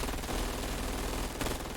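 Dense, continuous automatic gunfire from a match of the VR shooter game VAIL VR, loud and rapid with overlapping shots and no pauses.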